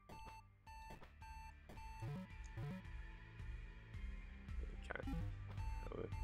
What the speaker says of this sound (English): Sorry, I've got to put up with a beeping. Does sound like an alarm going off, doesn't it?